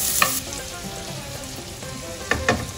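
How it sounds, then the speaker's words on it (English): Butter sizzles in a hot pan as a steady crackling fry, heard close. A few sharp clatters of a utensil break in near the start and again near the end. "We add the butter."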